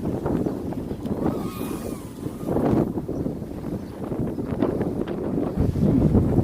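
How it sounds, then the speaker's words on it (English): Strong wind buffets the microphone outdoors while a small Mobula 7 1S FPV drone flies, a steady broadband roar with gusts rising and falling throughout and no voices. "Wind really picked up."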